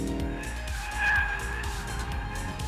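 A hot hatch engine revs with a raspy, buzzing exhaust note while the rear tires slide on a race track, swelling briefly near the middle before settling back.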